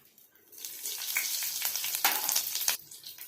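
Green chillies dropped into hot oil in a pan, erupting into a loud, dense crackling sizzle that swells after a quiet start, holds for a couple of seconds, then drops away.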